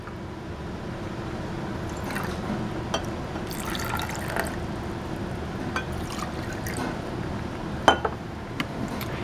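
Deionized water trickles and splashes as it is poured into several small sample containers during a classroom solubility test, a steady liquid wash broken by brief drips and clinks.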